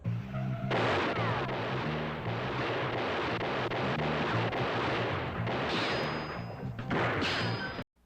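Loud, dense movie gunfire and crashing impacts from a low-budget action film run almost continuously for several seconds, with a few brief pauses near the start and end.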